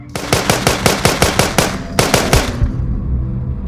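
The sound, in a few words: gunfire from a gun in a zombie video game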